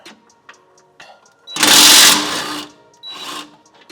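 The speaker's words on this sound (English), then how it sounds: "It's a little bit of a tight squeeze, but you can still fit your impact back here." An impact wrench loosens the nut and bolt on the rear control arm of a Toyota GR86 / Subaru BRZ / Scion FR-S: a loud sustained burst of about a second, then a shorter second burst, close up in a workshop.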